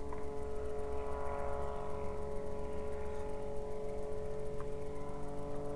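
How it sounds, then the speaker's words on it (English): An airplane passes over a wild campsite, giving a steady, droning engine hum with layered tones that holds evenly throughout, fairly distant and alone. "Always airplanes."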